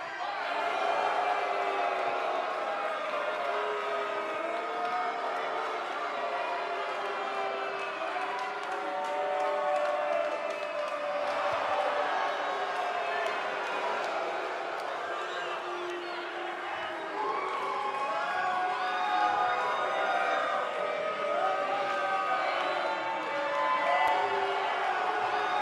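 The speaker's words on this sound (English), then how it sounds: "And Michael, it sounds to me like this crowd already picked the one who they want to win this match." A wrestling arena crowd cheers and roars steadily, loud and dense throughout, with whoops and scattered clapping before a one-on-one match.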